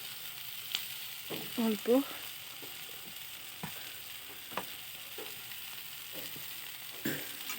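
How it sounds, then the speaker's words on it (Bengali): Spices fry in a pan for chicken curry, a soft, low sizzle broken by scattered scraping clicks of stirring, while a voice speaks briefly near the start. "মশলাটা ভালো করে কষবো।"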